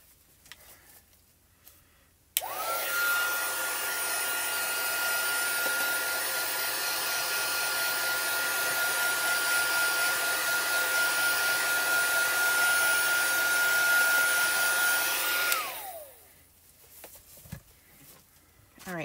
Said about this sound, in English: I'm just going to heat set this ink so it doesn't smear.